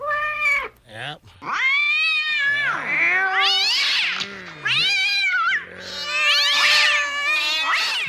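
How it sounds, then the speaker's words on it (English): An aggressive cat caterwauls in a run of loud, drawn-out, wavering meows and yowls close to the microphone, with a brief spoken word mixed in. "It's a very aggressive cat."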